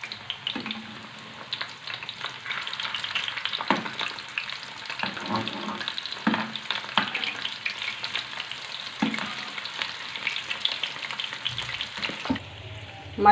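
A potato paratha roll shallow-fries in a pan with a continuous crackling sizzle, punctuated by occasional scraping and turning sounds, close and moderately loud.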